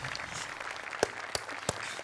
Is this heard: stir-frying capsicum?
no